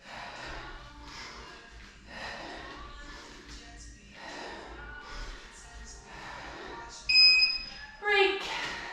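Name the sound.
workout interval timer beeping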